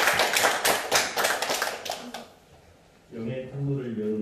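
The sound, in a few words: congregation clapping in church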